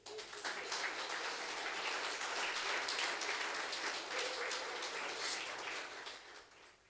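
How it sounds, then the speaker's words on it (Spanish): A church congregation applauding during a special worship service: dense, even clapping from many hands that holds steady before dropping away abruptly at the end. "Dale un aplauso al Rey"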